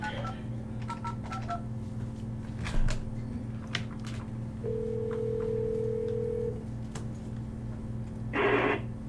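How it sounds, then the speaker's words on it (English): Number keys on a telephone keypad are tapped in a meeting room, a string of short DTMF beeps over a steady dial tone, with one longer tone partway through and a burst of noise near the end. "Try to dial the right number."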